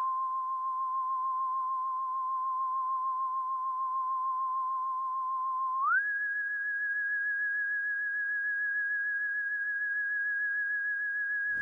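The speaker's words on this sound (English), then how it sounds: "a whistle from Flex" Synthesized whistle sample from the FL Studio Flex plugin plays a clean, pure sustained tone that holds steady, then glides smoothly up to a higher pitch and holds again, alone and fairly quiet.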